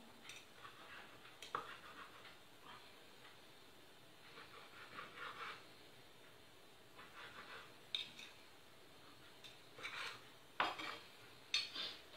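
Sun-dried tomatoes in oil being cut into small pieces with a knife on a board in a home kitchen: soft, irregular taps and scrapes, quiet and close, with occasional light clinks of utensils.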